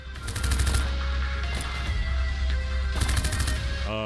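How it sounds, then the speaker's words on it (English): Missiles fire in a sci-fi autobattler video game as loud, rapid bursts of rattling shots over a continuous low rumble, in two main volleys with a short electronic tone at the end. "Oh, here come the missiles."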